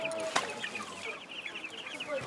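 Chickens on a small farm with about ninety birds, clucking in a steady scattered chatter of short calls, moderately close, with no talking over them.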